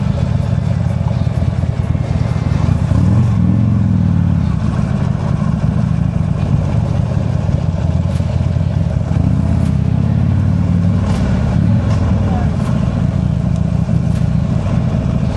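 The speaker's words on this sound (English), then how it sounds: "Oh, van coming." Heard from a moving motorcycle, a van passes by on the road, its engine rising and fading over a constant loud engine and wind roar, with no talk during the pass.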